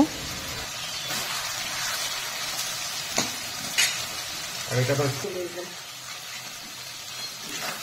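Chicken feet masala with garam masala powder being stirred in a pan, a steady close sizzle with intermittent scraping spoon strokes and a few louder clanks midway.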